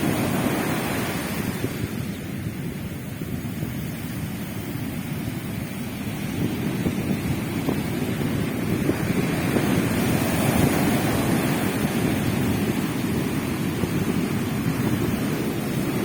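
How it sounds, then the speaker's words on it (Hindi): Continuous roar of ocean surf, waves rushing and breaking, with wind buffeting the microphone throughout; no voices. "तो देखिए लहरें कितनी ऊंची ऊंची उठती है यहाँ पर"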